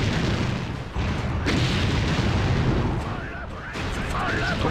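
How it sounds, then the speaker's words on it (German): Heavy cannon fire in the video game Anno 1602 pounding a tower, a dense, continuous rumbling barrage of booms with brief dips, loud and close. "Turm können wir auch zerschießen."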